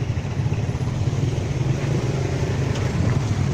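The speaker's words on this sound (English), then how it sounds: "Cars going in all directions," Street traffic in Siem Reap with cars and motorbikes moving in all directions, a loud, steady engine rumble and road hum close by without any talking.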